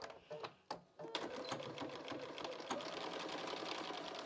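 Sewing machine running a stitch along the bottom edge of fabric for an etui box, a few short stops and starts and then a steady close whirring hum with fast needle ticking.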